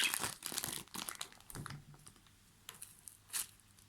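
A plastic package of foam play dough is crinkled and torn open up close, giving irregular bursts of crackling separated by quiet gaps, with no talk.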